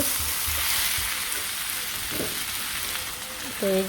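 Vegetables and onions fry in a pan with pre-fried fish, crackling in a close, steady sizzle with light stirring. A brief clink comes near the end.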